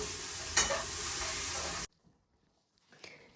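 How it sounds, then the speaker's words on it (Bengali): Food sizzles and crackles steadily in a hot pan with a brief scrape of stirring, then cuts off to near silence before a faint clink. "এখানে বসাইছি ফ্রাইড রাইস আর সবজি একটু ভাজা নেই"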